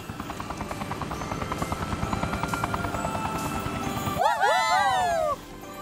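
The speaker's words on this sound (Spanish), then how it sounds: "Con este módulo de helicóptero, podrán tirar del trineo de Santa Trax y ayudarlo a repartir todos los regalos." Cartoon helicopter module lifting and pulling Santa's sleigh, a steady rhythmic rotor chop running throughout, with bright cheerful voices and a swooping musical flourish rising over it near the end.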